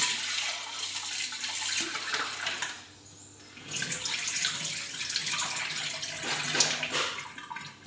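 Running water rinses used tea powder in a strainer, flowing steadily and close, with a brief lull around the middle before it surges again, and no voices.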